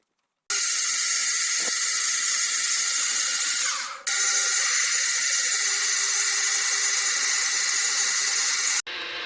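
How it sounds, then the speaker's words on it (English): A drill bores a dump port through a valve body held in a vertical collet block on a lathe. The steady high whine runs loud and continuous for about eight seconds, with a short dip in the middle before it resumes. "dump port is drilled through the valve body and valve core"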